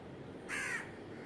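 A single crow caws once, a harsh bright call standing out over a quiet background hum, fairly close, no talking.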